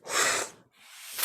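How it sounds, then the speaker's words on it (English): A sharp, breathy inhale through the mouth, loud and close, followed by a brief pause and the start of another airy breath. "In the beginning, we are going to breathe in through the mouth."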